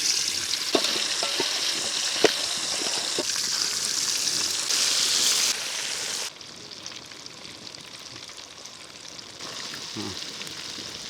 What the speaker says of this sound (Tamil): 1 hour ஊற வச்ச சிக்கனை பொரிச்சு எடுத்துக்கலாம்